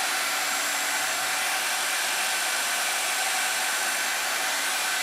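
Hair dryer blowing on hair roots, a close, steady, unbroken airy whoosh with a motor hum that holds at constant loudness throughout.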